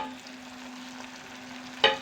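Onion frying in a pan gives a soft, even sizzle over a low steady hum, ending in a single sharp clank of metal near the close.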